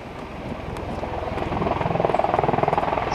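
A CV-22 Osprey tiltrotor hovers and touches down on an airshow runway, its loud rotor thump growing into a fast, pulsing beat over a broad engine roar, heard from fairly close.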